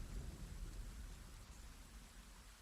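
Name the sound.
rain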